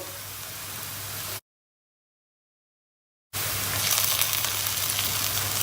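Onions fry in a pan, cooked until burnt for a green lentil dish, with a steady close hissing sizzle that cuts to silence for about two seconds, then returns louder and brighter.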